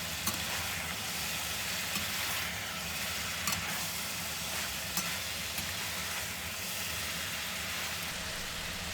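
Pork belly sizzles loudly in a hot wok under constant stirring, a dense steady crackle with occasional sharper scrapes of the utensil against the metal.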